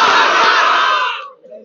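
At an Islamic sermon gathering, a large crowd loudly shouts takbir in unison as a response. The roar is sustained and powerful, then cuts off and fades.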